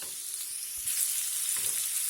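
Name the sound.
meat sizzling while being sautéed in a pan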